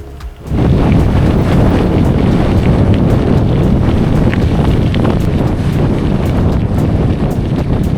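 Loud, blustery wind buffets a DJI Action 4 camera microphone while cycling, almost the whole time, a constant roaring rumble with no speech.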